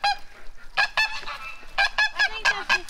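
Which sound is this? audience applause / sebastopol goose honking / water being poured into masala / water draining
sebastopol goose honking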